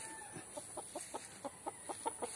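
Chickens on a farm clucking close by in a quick, regular series of short calls, fairly quiet against a faint background hum.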